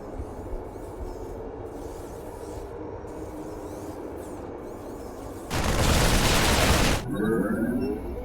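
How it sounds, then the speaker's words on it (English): Cannon fire in StarCraft II, Legacy of the Void on Korhal: a dense, roaring burst of blasts rises suddenly over a rumbling battle bed, then falls back to the lower din. "Our cannon shall sing."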